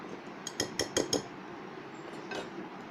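A whisk clinks rapidly against a bowl while stirring batter with a pinch of salt, a short burst of light metallic taps followed by a fainter one.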